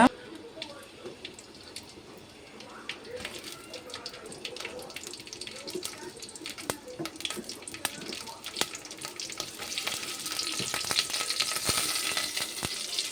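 Chopped chilies and onions hit hot ghee in a pan, giving a steady crackling sizzle that grows louder and denser toward the end, with occasional sharp pops and faint clatter.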